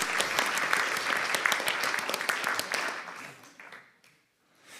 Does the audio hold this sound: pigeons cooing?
no